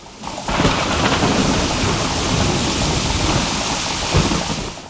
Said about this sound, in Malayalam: ഇത്രയും വലിയൊരു മഴ ഞാൻ കണ്ടിട്ടില്ല